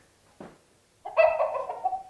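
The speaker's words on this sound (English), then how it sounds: "A rooster." Rooster crowing played back as a recorded sound effect on a Hopspots device, a short click followed by one loud, close, strained crow lasting about a second.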